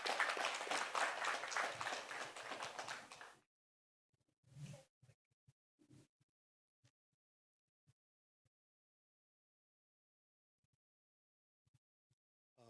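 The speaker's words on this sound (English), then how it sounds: "let's have a huge round of applause for Kaushik Ghosh" An audience at a poetry café during the Valley of Words festival in Dehradun gives poet Kaushik Ghosh a loud, dense round of applause that lasts about three seconds and stops abruptly, leaving near silence with a few faint scattered sounds.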